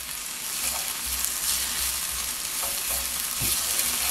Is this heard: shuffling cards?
no